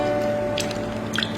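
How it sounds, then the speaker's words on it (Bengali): Water splashing and dripping as feet are washed, soft squishy wet sounds close by with a couple of brighter drips, over a steady low background hum. "তো এখন আমি পাটা ধুয়ে নিব।"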